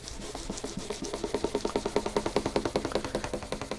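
Sandpaper rubbed across the French polish finish on an acoustic guitar to level it, a steady run of quick, even back-and-forth strokes, close and fairly soft, with no talking.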